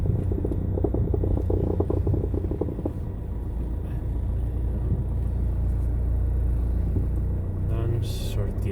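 Car pulling out of an underground parking garage in Barcelona, a steady enclosed engine rumble and road drone throughout, with faint knocks and bumps and no talking.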